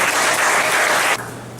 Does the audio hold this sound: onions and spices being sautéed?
no